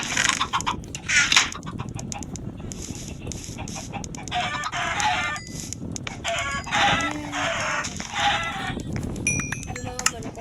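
Minecraft chickens cluck and squawk repeatedly in a busy game soundscape, with chirpy effects and background music layered throughout.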